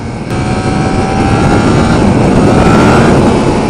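A Yamaha MT-10 motorcycle engine roars under hard acceleration, loud and continuous, building slightly in intensity across a few seconds with heavy wind noise and no talking.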